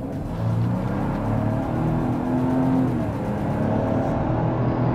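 A 2024 Ford Ranger Lariat 2.7L V6 4X4 accelerating from inside the cab, a steady, smooth rising engine drone, close and continuous with no talk.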